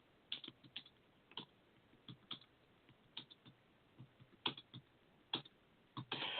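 Fingers type on a computer keyboard in quick irregular bursts of close, quiet clicks, with no one speaking.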